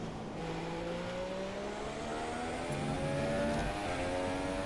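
Ferrari Formula 1 car racing in the F1 2017 video game: a loud, sustained, high-pitched engine whine that climbs steadily in pitch as the car accelerates, with no break.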